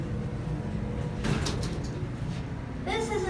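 A rough, worn Montgomery hydraulic parking elevator door closing in a Troy Marriott hotel, a brief sliding clatter over steady machine hum, followed by a louder mechanical rattle near the end.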